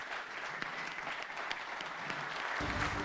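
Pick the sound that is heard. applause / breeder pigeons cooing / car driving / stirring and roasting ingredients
applause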